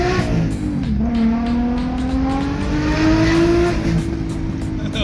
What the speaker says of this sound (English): I love the sound of RBs